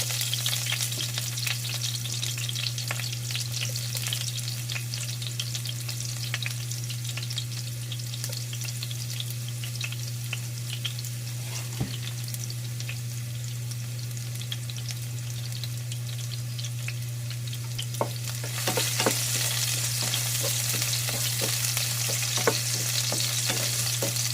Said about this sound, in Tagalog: Lagay ko na yung aking garlic.